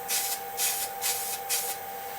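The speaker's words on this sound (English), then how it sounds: "I'm going to hold the Lacquer Shot can out roughly 10 to 12 inches, and I'm going to give a couple of light bursts" Four short, even hissing bursts of GluBoost Lac R' Shot aerosol lacquer sprayed from about a foot away onto a wooden pen blank spinning on a lathe, each burst roughly a quarter second, over a steady background hum.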